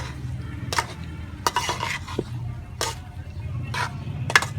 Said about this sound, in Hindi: अब इसकी अच्छे तरीके से मैं मिक्सिंग कर दूंगी।